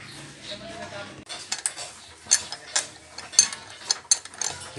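Ratchet clicking in short bursts while tightening bolts on an engine head cover, with metallic clinks of tools between strokes.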